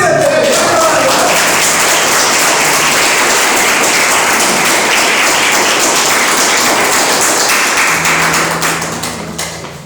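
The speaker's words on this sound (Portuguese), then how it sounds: "Que as palmas vão. Aleluia!" A church congregation claps loudly and densely in a sustained burst that fills the room. Brief voices come at the start, and the clapping fades out near the end.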